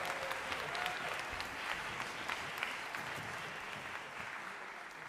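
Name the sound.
audience applause at a jazz band concert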